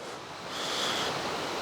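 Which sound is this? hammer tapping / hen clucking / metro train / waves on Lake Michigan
waves on Lake Michigan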